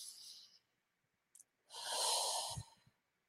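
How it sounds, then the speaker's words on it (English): A deep breath drawn in, close and soft: an airy exhale, a brief sniff, then a long, steady inhalation ending in a small snort-like catch, with near silence between. "So a nice breath in."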